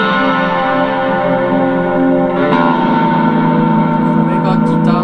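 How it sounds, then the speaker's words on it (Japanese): Sustained guitar notes through a BigSky reverb pedal, washed in lush reverb and echo, a shimmering harmonic tone that swells and blurs together, loud and alone. "ビッグスカイは本当に素晴らしいリバーブだと僕は思ってて"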